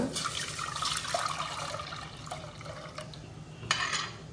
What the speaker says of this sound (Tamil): இப்போ புளி தண்ணி இதில் ஊற்றிக்கலாங்க